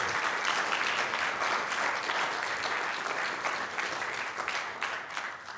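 Steady applause from a lecture audience at a professorial lecture fills the room, a dense, even wash of many hands clapping with no talking over it.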